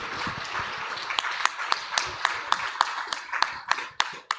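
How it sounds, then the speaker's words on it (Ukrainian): Applause thins into a few scattered, distinct claps that ring out sharply near the end, as the clapping gradually winds down. "Оплески, оплески."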